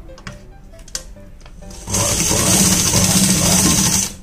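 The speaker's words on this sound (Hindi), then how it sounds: "तो अभी मैं इसकी दूसरी मोहरी की सिलाई लगा के बताती हूँ आपको।" A sewing machine stitches the second hem of a palazzo, starting partway in and running steadily loud and continuous for about two seconds before stopping, with faint handling sounds before it starts.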